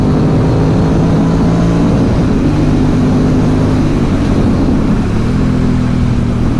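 A loud engine hums steadily and shifts pitch as it gains speed, the drone of an Aprilia Dorsoduro 750 motorcycle accelerating, with no voices.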